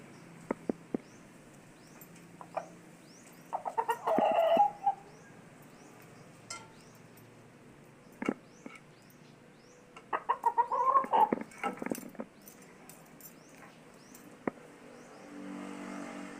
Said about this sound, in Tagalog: Ito yung manok na nagsasalita oh.